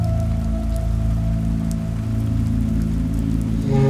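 Steady rain falling at night as a horror audio drama effect, a dense continuous hiss of drops with a low hum underneath, loud and unbroken, no voices.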